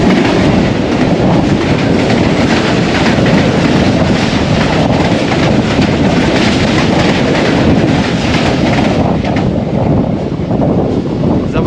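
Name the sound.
Jaffar Express train passing on the crossing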